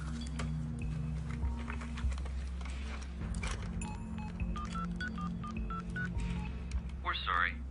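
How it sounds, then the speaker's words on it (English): A phone number is dialed on a telephone keypad as a quick series of short electronic beeps, interspersed with a voice speaking nearby. "I phoned her number"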